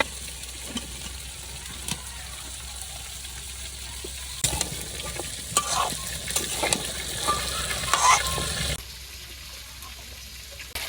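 Eggs and potatoes go into a spiced curry in a village kitchen, bringing bursts of frying and stirring scrapes in the pan, louder in the middle and then dropping back to a quieter hiss.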